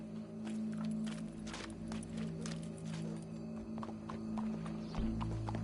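Horse hooves clip-clop in a video game, a steady run of close hoof strikes over a low hum, with a faint whinny-like tone mixed in.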